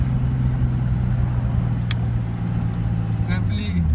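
A turbocharged Datsun 280ZX on Megasquirt tuning drones steadily from inside the cabin as it pulls in third gear, a low continuous engine roar with a person talking over it.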